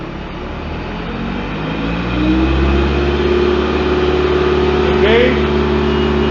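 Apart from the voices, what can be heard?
PRINOTH machine engine revving all the way up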